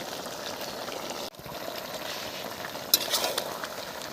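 Vegetables frying with turmeric, chilli powder, salt, tomato, garlic and ginger in a pan, a steady close sizzle with scraping stir strokes throughout and a sharp utensil clink near three seconds.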